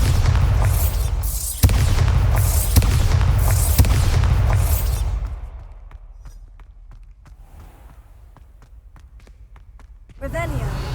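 A Bombarda blasting spell goes off in Hogwarts Legacy, with loud booming bursts and rumble over the first five seconds, then quieter scattered thuds and crackles before a final swell.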